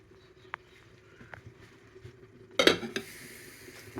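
While patishapta pitha cooks, a lid is set over the pan: a few faint taps and clinks in near-quiet give way to a loud metallic clank and a brief rattle.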